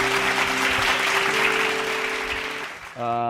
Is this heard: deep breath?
no